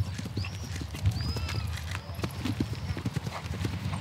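Horse hooves clip-clop steadily at the Pompadour racecourse beneath a château in the Limousin, with a horse whinnying and people talking in the background.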